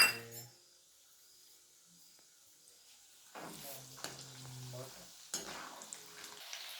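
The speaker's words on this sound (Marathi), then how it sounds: "शेंगदाणे तळून घेते" Peanuts fry in hot oil for a Maharashtrian bhadang snack, a soft crackling sizzle near the pan with clinks of a utensil against the vessel and brief bursts of stirring, fairly quiet overall.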